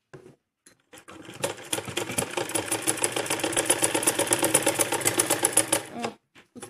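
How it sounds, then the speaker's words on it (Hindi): A sewing machine runs in one steady burst of rapid, even stitching, putting an extra line of stitches on a fancy double-layer designer long kurti. It sounds close and fairly loud, starts after a few faint clicks and stops cleanly, with no talking. "इसे हम ऐसे करके एक सिलाई और लगा लेंगे इसके ऊपर"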